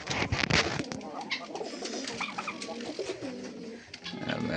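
Native pigeons, two pairs, coo close by in a busy, cluttered space with scattered clatter and faint voices mixed in.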